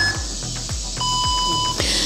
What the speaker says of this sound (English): I'm just gonna shut my timer off.